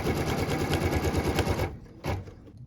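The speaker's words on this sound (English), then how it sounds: "What we're stitching now is a cut line for piece number 5 so it can join our block" An embroidery machine stitches a cut line on quilt fabric in a hoop, a rapid even whirring patter that stops abruptly, followed by a short mechanical clunk and quiet hum.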